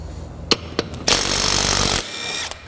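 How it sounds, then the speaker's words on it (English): A power impact tool spins off a lug nut on the wheel of a 1998 Mazda 626, with a few sharp clanks followed by a loud, steady one-second whir close by, then a clatter. "To make it easier to access things, I'm going to remove the wheel. There'll be 5 lug nuts."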